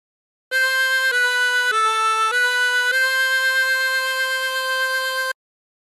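A harmonica plays a short phrase of the folk tune Aura Lee, several held notes stepping down and back up, close, clean and unaccompanied.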